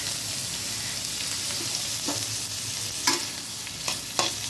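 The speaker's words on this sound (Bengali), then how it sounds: "পেঁয়াজ কিন্তু বেশ ভাজা ভাজা হয়ে গেছে।" Onions fry in a pan with a continuous close sizzle, broken by several sharp spatula taps and scrapes against the pan toward the end.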